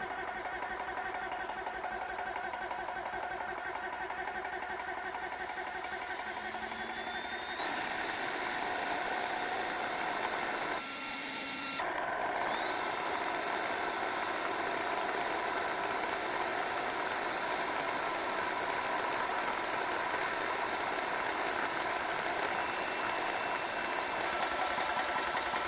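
A home air compressor motor hums and rattles continuously, shifting in tone partway through with a brief interruption, then running on steadily at moderate volume.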